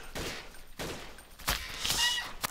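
Gunfire in the online shooter Blockade 3D: several sharp shots and short bursts ring out at moderate distance in irregular rhythm, with a quieter rattle between them.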